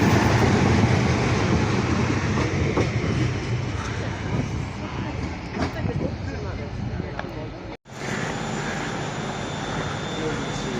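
A train at Crewe station, with a broad, loud rumble of rolling stock and engine noise filling the platform, close by, with a brief dropout near the end.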